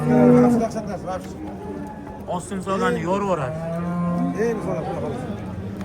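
A cow at a livestock market moos in a long, loud, wavering call that rises and falls, with someone talking over and around it.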